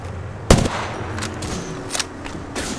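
Close, loud gunfire in a chaotic Apex Legends fight, a sharp shot followed by several scattered bursts of automatic fire over a constant low background rumble.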